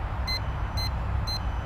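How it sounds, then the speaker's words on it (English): A Hubsan H122D X4 Storm quadcopter gives three short, evenly spaced high beeps, faint against steady low background rumble. "and the copter's beeping as well"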